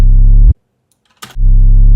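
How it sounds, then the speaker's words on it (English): A deep 808 bass tone cuts off, followed by silence and a short click, then the same 808 bass note swells back in played in reverse. "these gray notes are actually the same 808 being played in reverse"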